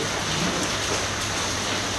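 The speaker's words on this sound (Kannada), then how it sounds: "ಮಳೆ ನೋಡ್ರಿ ಚಲೋ ಐತಿ" Steady rain pours down continuously on the Devkund waterfall trek at Tamini Ghat, a dense, even hiss of drops hitting surfaces all around, with no voices.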